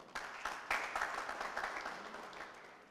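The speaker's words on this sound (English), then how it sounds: "Ladies and gentlemen, let us clap for that." Audience at a university anniversary address applauds, a fairly faint, steady wash of clapping with a few sharper claps near the start, lasting a few seconds.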